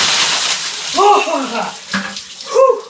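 A bucket of ice water is dumped during the ALS Ice Bucket Challenge, giving a loud, close splash and rush of water. Shouted voices and gasps cut through it.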